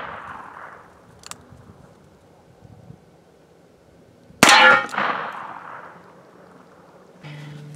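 A rifle shot strikes a cheap steel bulletproof plate bought from Wish, producing one loud, sharp metallic clang that rings out briefly, heard outdoors with light wind noise before and after.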